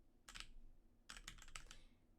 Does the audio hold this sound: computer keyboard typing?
yes